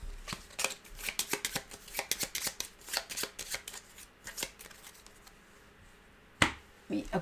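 Playing cards riffled and shuffled during a solo tabletop session of the board game Finspan, a rapid series of crisp close-up flutters, then a pause and a couple of sharper card snaps near the end.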